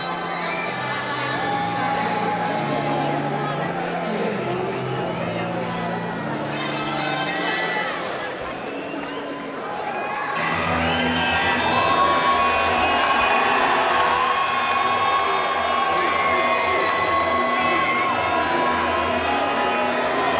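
Rowdy crowd cheering and shouting during a fighter's walkout at a BAMMA 11 mixed martial arts event, a continuous roar with whoops that swells louder midway, mixed with music in the arena.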